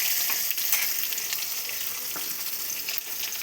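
Eggplant pieces frying in oil with cumin seeds make a loud, continuous bright sizzle, close by, with faint stirring scrapes.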